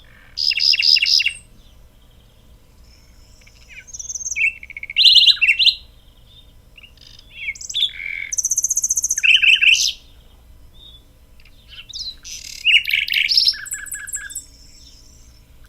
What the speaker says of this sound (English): So here's a nightingale vocalization.